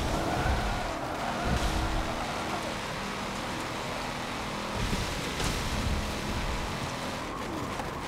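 Race car engines roaring in Forza Motorsport 7, a steady broadband drone of revving motors with occasional surges, loud and continuous with no clear speech over it.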